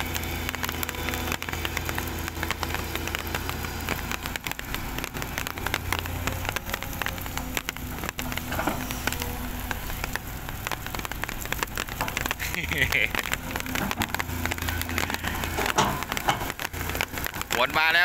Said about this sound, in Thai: ฝนมาแล้วทีนี